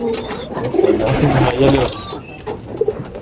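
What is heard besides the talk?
pigeons cooing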